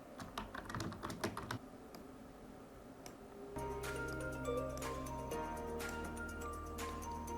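Fingers type on a computer keyboard, first in a quick run of crisp key clicks, then after a pause in a steadier run over a faint hum; the keystrokes are near and quiet, and no one speaks.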